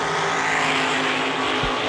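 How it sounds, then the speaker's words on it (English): A drag strip launch pairs a dragster in the left lane with a Rambler wagon on the right, giving a loud, continuous engine roar with broadband racing noise throughout and a brief low thump near the end. "Wyatt Palmatier, left side in the dragster"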